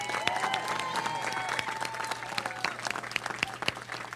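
A hall full of people applauds first responders and emergency management personnel, a dense, sustained wash of clapping that stays loud throughout and thins slightly toward the end.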